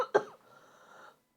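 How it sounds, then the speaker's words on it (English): A person with a lingering cough after an illness coughs sharply twice at the start, then once more at the end, close and loud, with quiet between. "I just have a lingering cough."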